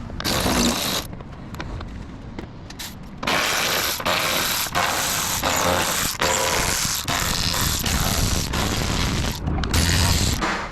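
A ratchet wrench backing out 10 mm bolts that hold the bumper on a Cadillac CTS-V3, a loud rapid clicking that runs almost without break, with short pauses between bolts.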